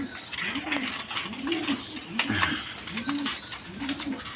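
Bombai pigeons cooing in a repeated rhythmic pattern, several soft throaty coos close by against a faint background hiss.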